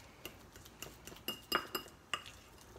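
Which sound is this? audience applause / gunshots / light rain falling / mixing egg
mixing egg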